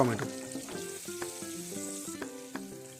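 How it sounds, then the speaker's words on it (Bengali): Steady sizzling of tomatoes frying in oil in a pan, with tonal background music running throughout and a few soft clinks. "টমেটোটাও ভাজা কমপ্লিট হয়ে গেছে"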